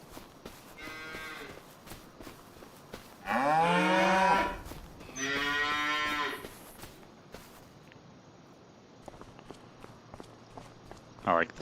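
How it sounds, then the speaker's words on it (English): Cattle mooing in the farming game Farming Simulator 25, two long loud moos in the middle of the stretch over soft footsteps and faint ambient farm noise. "There are some cows over here."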